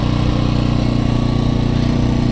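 An AL-KO pure-sine-wave generator runs without load, giving a steady, even engine hum with a regular low throb, close and continuous throughout with no pauses.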